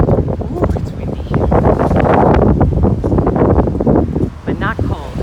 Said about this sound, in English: It is windy. Ooh, it's windy,